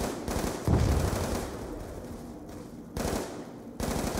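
Bursts of MTAR rifle fire in Call of Duty Black Ops 2 Zombies, rapid automatic shots in short repeated volleys, loud and close, with no talking.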